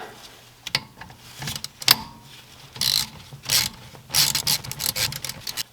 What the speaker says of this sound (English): Put your ratchet on the end.